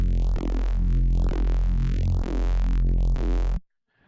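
A synth sound with saturation distortion pulses in a steady repeating rhythm, each note bright and buzzy with sweeping harmonics, then cuts off abruptly to silence.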